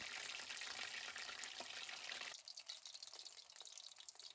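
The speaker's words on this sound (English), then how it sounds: "Deep fry it for about 3 minutes" Shrimp tempura deep frying in hot oil, a dense, faint crackling hiss that suddenly thins into lighter, scattered bubbling and popping partway through, with no one speaking.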